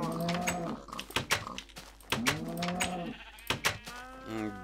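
Blocky Minecraft farm animals, cattle and sheep, call out in repeated moos and bleats close by, each cry rising and falling, interleaved with sharp clicking game effects and short pauses between calls.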